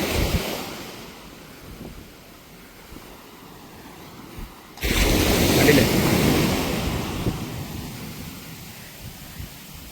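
Sea waves wash onto a beach where the water has receded, a steady surf roar with wind buffeting the microphone that swells abruptly louder halfway through and stays loud.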